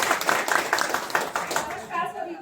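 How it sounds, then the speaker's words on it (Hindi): Audience clapping at a crowded teaching-exam event hall in India, a burst of hand claps with irregular peaks that thins out and dies away toward the end, with a voice faintly present near the close. "एक बार भरपूर तालियां बजाएं।"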